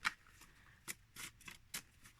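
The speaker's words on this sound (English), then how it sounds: "So I will just have to make do with this type of shuffling." Tarot cards from an I Naibi deck being pile shuffled by hand, a few soft papery slaps and shuffles spaced irregularly, quiet and close with no talking.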